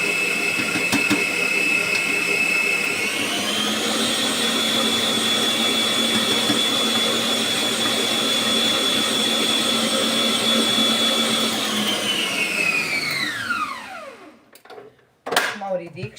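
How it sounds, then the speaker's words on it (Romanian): An electric mixer beating cream for a wafer cake whirs loudly and steadily at high speed, its pitch rising once early on, then winding down to a stop near the end. "trebuie să las mixerul să meargă tare"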